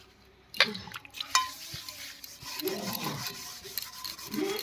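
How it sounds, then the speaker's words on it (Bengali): The inside of a kadai is lightly scrubbed, giving repeated rough rubbing and scraping strokes with a few sharp metallic clinks near the start, close and moderately loud, with no talk. "ভেতরটা তো পরিষ্কারই ছিল একটু হালকা করে শুধু মেজে নেব"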